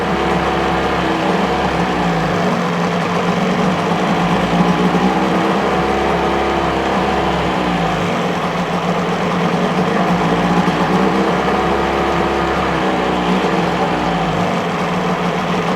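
A 1977 Johnson 9.9hp Seahorse outboard motor with a plastic-bowl carburetor runs steadily on the fuel left in the bowl, a loud, continuous, close engine drone with a faint regular pulsing and no talking.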